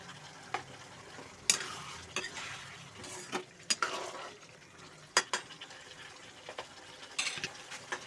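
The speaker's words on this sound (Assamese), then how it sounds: "ধুনীয়াকৈ লৰাই দিছোঁ।" Manimuni greens curry with egg is stirred in a pan, a soft simmering sizzle broken by scattered scrapes and clinks of a spoon against the pan, close and fairly quiet.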